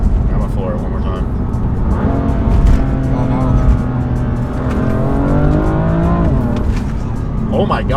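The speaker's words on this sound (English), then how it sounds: "I'm gonna floor it one more time." A BMW M4 Competition with a DCT gearbox launches hard under launch control, its engine roaring and climbing through the revs loudly and continuously, with people talking over it inside the car.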